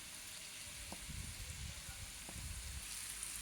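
Steady close sizzle of two eggs frying in a pan with salted onions, a continuous bright crackle with a couple of light taps, no talk.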